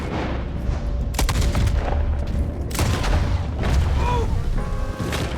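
Repeated gunshots and heavy booms from a Red Dead Redemption 2 shootout crack out in scattered bursts over a dense, rumbling battle din, with voices talking underneath.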